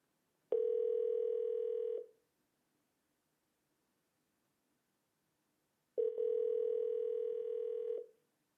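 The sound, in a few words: phone ringing on an outgoing call via Amazon Echo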